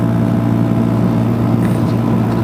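A Honda Grom motorcycle engine drones loud and steady at speed, accelerating while racing a Jeep, with a constant buzzing roar and wind rush close by throughout.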